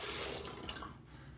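Tap water running into a sink for rinsing the face after a shave, a close, steady hissing splash that eases slightly toward the end.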